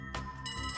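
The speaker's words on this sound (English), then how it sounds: "Lloyd, the phone is ringing." A telephone rings in the video game Trails from Zero, a short electronic ringtone with bright repeating tones, clear and alone with no voices.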